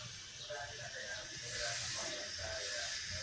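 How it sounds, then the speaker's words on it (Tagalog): WD-40 sprayed from a can onto the front disc brake of a SYM 200 motorcycle, a continuous hiss with a louder burst midway over a faint background. "Spray natin ng WD-40"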